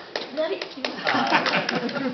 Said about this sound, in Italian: c'è un applauso, perché l'ha seguito subito